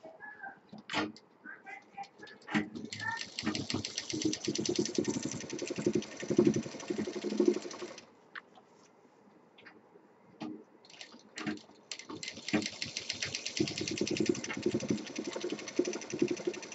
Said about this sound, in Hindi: दूसरी तरफ का भी सिल देंगे।